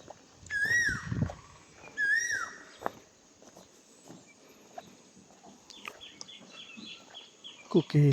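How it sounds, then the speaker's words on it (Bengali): An Asian koel calls in a rural village setting with rising whistled notes repeated a few times at moderate distance, while people talk nearby. "কোকিল ডাকতেছে"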